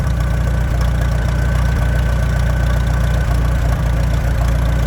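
An old machine's engine idles loudly and close by with a steady low throbbing chug and faint knocking, running on as its fuel runs out.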